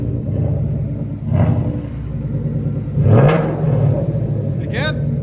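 A 2019 Ford Mustang GT 5.0L V8 fitted with Dynomax Race Bullets exhaust rumbles loudly nearby and is blipped twice, each rev swelling then falling back to a deep burble, with brief voices.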